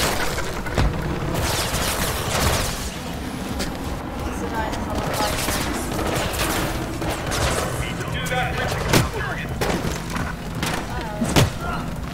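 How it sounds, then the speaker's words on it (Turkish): Helicopter gunfire in the video game Mirror's Edge Catalyst: loud, dense bursts of shots and heavy thuds fill the whole stretch, with sharper booms standing out near the end and voices mixed in. "Helikopter nasıl sıktı?"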